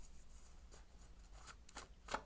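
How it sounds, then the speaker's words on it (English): A deck of tarot cards is shuffled quietly and close by, with a few soft riffling swishes that end in a brighter snap. Faint room noise sits underneath. "So we're going to shuffle, and I'm going to pull 3 cards out for each of these little piles"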